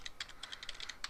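Quiet, rapid keystrokes on a computer keyboard as an FTP host address is entered in FileZilla, a soft, uneven run of about a dozen close clicks with no voices.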